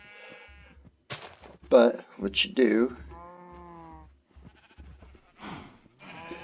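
Minecraft cows let out a few short, bleating moos in the game, interrupted by someone talking over them.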